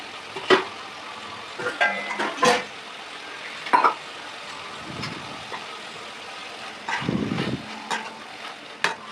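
Intermittent scraping and stirring of crushed turkey berries in a pan with soft sizzling between, short clattering bursts spaced irregularly over a quiet background.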